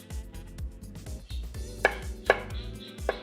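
A knife chops garlic rapidly and rhythmically on a cutting board, steady close taps with a few louder knocks, no talking.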